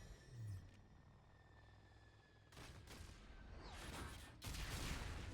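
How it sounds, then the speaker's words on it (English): Gunfire from a basic assault rifle in Mass Effect 3 combat: dense bursts of rapid shots that start abruptly and continue over a rumbling battlefield din, growing louder toward the end. "Take this, my basic assault rifle."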